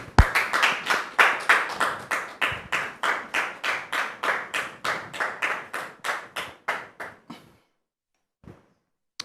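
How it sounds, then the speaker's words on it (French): An audience at a televised French-language talk show claps in unison as a guest walks on, a loud, evenly paced rhythmic beat of about twenty claps that slows and stops, followed by near silence and a couple of stray claps. "Recevons maintenant sous vos applaudissements M. Kolia pour l'écouter."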